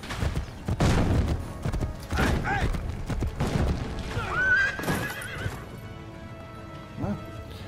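A horse in the Assassin's Creed Brotherhood video game neighs loudly amid rapid clip-clop hooves and game battle noise, the whinny rising clearly midway before the hoofbeats fade.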